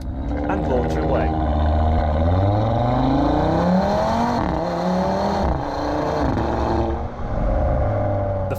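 A 2019 Audi RS3 launches hard under launch control, its engine roaring loud and close as the pitch climbs through rising gear sweeps with brief dips at shifts, running continuously throughout.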